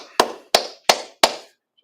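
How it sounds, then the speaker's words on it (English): Four slow, evenly spaced hand claps, sharp and close, each ringing briefly before the next, then silence; sounds like a single clapper rather than a crowd. "Clap it up for the Lord."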